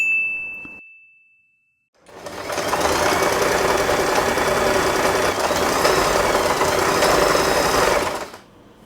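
An electric sewing machine stitching a seam in fabric for a puffy scrunchie, a loud steady mechanical whir that runs for about six seconds after a brief high ding and a silent pause.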